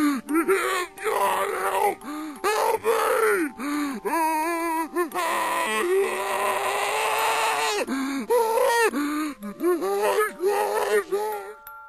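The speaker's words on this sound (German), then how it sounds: "Die befallene Person schreit aus voller Lunge und fleht Gott um Hilfe an." Reversed recording of a possessed person screaming, a hidden Easter egg in a video game: warped, strained vocal wails and gasping moans in rising and falling bursts, loud and close, with short pauses between cries.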